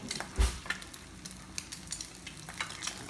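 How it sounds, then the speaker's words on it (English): Eggs fry in a hot pan for Thai pork fried rice, a close, constant sizzle and spatter with a soft utensil knock near the start. "Look at those eggs. Watch out for the spattering."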